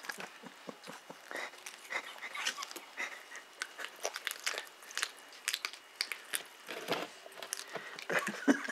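A cat chews fresh raw fish, with close, wet crunching and biting in irregular bursts over a quiet background. No one speaks.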